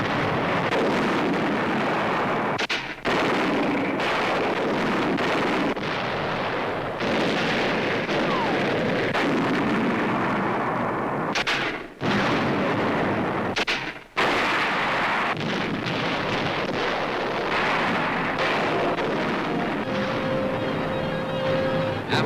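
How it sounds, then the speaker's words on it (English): American tanks and mortars fire on German hillside strongholds in a World War II newsreel, a dense barrage of heavy booms and blasts rolling almost without a break, loud and rough with old-film crackle and no speech. "American tanks and mortars now blast German hillside strongholds in the center."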